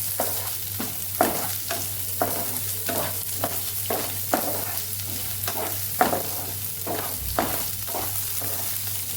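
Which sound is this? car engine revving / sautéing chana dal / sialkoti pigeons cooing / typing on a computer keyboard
sautéing chana dal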